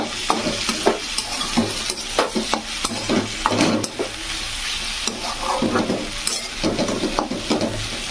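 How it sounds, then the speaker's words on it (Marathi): Cooked okra with coarsely crushed peanuts being stirred in a pan produces frequent close, loud scraping and clacking strokes over a continuous sizzle, with no voices. "आता याला जे आहे थोडंसं हलवून घेऊ."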